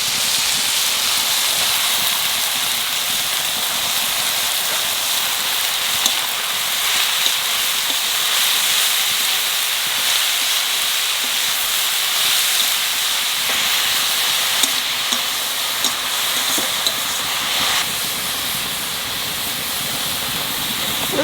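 Bottle gourd frying in oil with mustard seeds and green chillies, with amli greens added, sizzles in a steady, dense hiss that stays loud and even throughout with small crackles and no talking.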